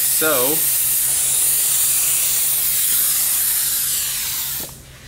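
A spray gun hisses steadily and loudly close by as it lays one pass of activator over hydro dipping film floating on water, cutting off abruptly near the end.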